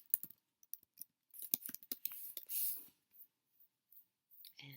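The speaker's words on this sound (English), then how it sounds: "look for an effect, which would be scissors cutting" A scissors-cutting sound effect: a quick run of crisp snips and blade clicks, close and quiet, with irregular spacing and a brief rasping slide near the middle.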